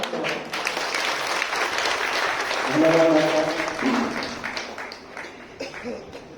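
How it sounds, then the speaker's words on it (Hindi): Crowd applause for Madam Premlata at a Sakhi Saheli women's gathering in Uchana, a dense, steady clapping from a large audience that swells mid-way and gradually thins out, with voices talking over it. "मैडम प्रेमलता जी को एक बार जोरदार तालियां"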